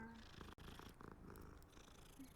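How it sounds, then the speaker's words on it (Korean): Soft, low purring from a cat in Hogwarts Legacy, a quiet continuous rumble under a faint game-world background, with no speech. "고릉고릉해."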